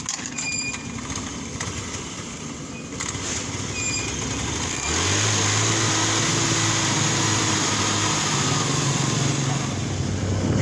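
A troubled motorcycle engine runs loud and close, its rough, buzzing drone shifting to a deeper, heavier tone about halfway through and then holding steady.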